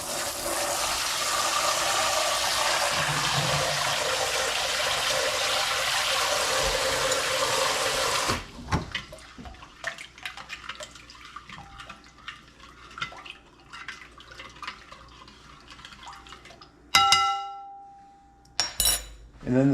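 Cold water rushes steadily from a kitchen tap into a bowl for a salmon brine, a loud continuous pour that stops abruptly, followed by faint clinks and handling sounds of dishes.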